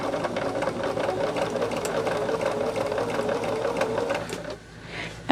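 A sewing machine stitches a quilt block in a fast, steady mechanical whir, running continuously for several seconds before stopping abruptly near the end, close and fairly loud.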